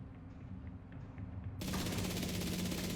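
LMG machine gun firing in The Division 2, a sustained rapid burst that starts abruptly and continues loudly without pause.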